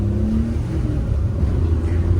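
A car with oversized 15-inch tires and a weak battery drives along, giving a steady, loud, close engine and road rumble with a low drone throughout and no talking.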